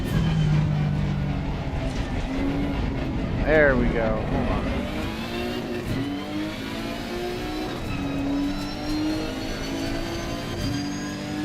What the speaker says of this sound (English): That's my engine now.